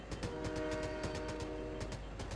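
A train in a video game rolling past, a rhythmic clatter of wheels with a sustained tonal hum or horn-like drone layered on top, steady and fairly close, without talk.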